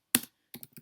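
Computer keyboard typing heard close and quiet: one sharp keystroke, a short pause, then a quick cluster of several lighter clicks.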